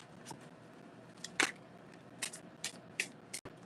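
Tarot cards being shuffled by hand, a quiet series of short riffling and snapping bursts spaced irregularly, heard close and alone with no talk.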